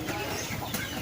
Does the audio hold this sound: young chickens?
yes